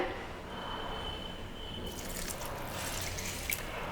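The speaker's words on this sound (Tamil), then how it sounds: "தண்ணி 1 டம்ளர் ஊற்றிக்கிறேன்." Water pours steadily into a pan of jaggery, a continuous splashing stream that grows brighter and fuller toward the end.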